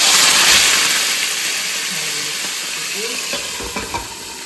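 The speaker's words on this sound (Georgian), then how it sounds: "გახურებულ ტაფაში, სადაც არის ზეთი უკვე ჩასხმული ვათავსოთ" A young chicken fries in oil in a hot pan for a Racha-style dish, giving a loud, close, continuous sizzle that eases slightly with faint scraping toward the end; no talking.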